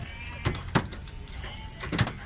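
Sheep at a livestock market in Buraydah give a few loud, close bleats, about three of them spaced irregularly, over a steady murmur of market background noise.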